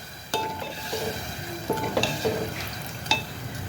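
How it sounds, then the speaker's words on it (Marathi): Spicy masala gravy for egg curry simmers with a splash of water in a pan, steady bubbling sizzle under repeated spoon stirs and light metallic clinks against the pan. "आणि हे मसाले 1-2 मिनटं उकळवून घेते।"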